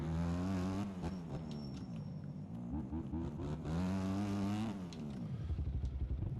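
A motocross bike engine in the racing game MX Bikes on a sandy Dreamland track with big jumps, droning loud and continuous with rising and falling revs as the rider works the throttle.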